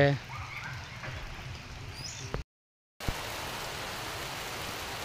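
Sudden heavy downpour, a steady dense hiss of rain drumming close by that cuts out briefly midway and then resumes just as strongly.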